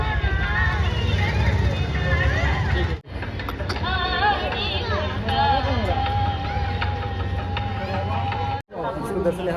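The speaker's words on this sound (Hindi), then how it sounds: "बहुत भीड़ है।" A dense crowd fills a busy Hindu temple during a fasting-day visit, with a continuous loud hubbub of chatter and voices all around, close and steady throughout.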